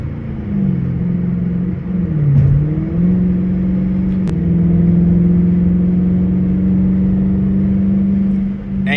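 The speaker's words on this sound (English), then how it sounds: "that's me half throttling that charge just so y'all can really hear my exhaust" A Dodge Challenger RT with a straight-pipe exhaust drones deep and steady at half throttle from inside the car, dipping briefly as it shifts, then holding a loud, even rumble.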